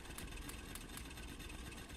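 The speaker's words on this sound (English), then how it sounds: "now we can set up the wonderful world of steam engine" Steam engine running in Factorio, a steady mechanical idling hum with faint periodic ticks repeating about every quarter second, continuous and moderately loud with no talk.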